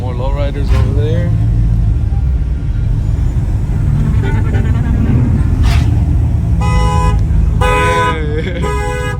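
A car alarm blares at a street car meet with lowriders nearby, its repeated electronic tones sounding in bursts over idling engines, crowd noise and people talking.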